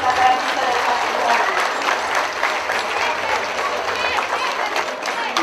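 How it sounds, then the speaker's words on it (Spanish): Guests at a wedding in Miahuatlán, Oaxaca, applaud the newly married couple, a dense, steady crowd of clapping that fills the room and lasts throughout, with voices mixed in. "Brindémosle un fuerte aplauso a esta pareja que hoy se unió en el sacramento del matrimonio."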